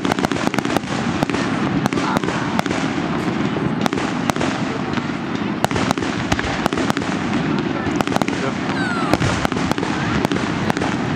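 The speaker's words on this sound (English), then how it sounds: "there's a firework" Dense fireworks crackle and pop in rapid, overlapping bursts, loud and continuous, with faint voices underneath.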